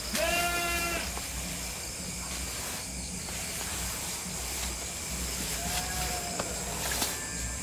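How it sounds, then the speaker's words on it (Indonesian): Frogs in a rice field give two loud, close, bleating croaks, one at the start and another later, over a steady background of chirping insects. "Kodok lomba kenceng banget."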